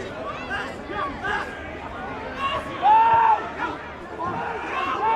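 Football crowd at a Maidstone United versus York City match, a steady murmur of chatter and noise from the stands that swells briefly with a shout, heard at a distance under a commentator's voice.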